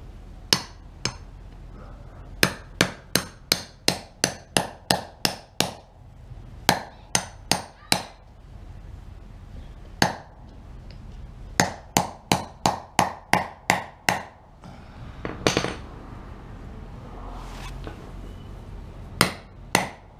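Needle bearing being driven into a Polaris Outlaw 500 IRS using a 16 mm socket, sharp metallic hammer blows in quick bursts of several strikes with brief pauses, close and loud.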